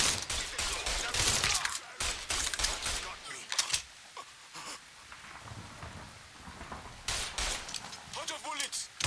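Rapid bursts of gunfire from a soldier in Mafia III Definitive Edition crack out in loud, dense clusters, with ragged volleys coming again toward the end amid a noisy battle backdrop.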